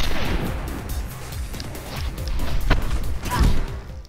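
Slowed-down gunshots in the video game Mirror's Edge land as a series of heavy, muffled booms and thuds, with the strongest blasts near the end over a dense, rumbling background.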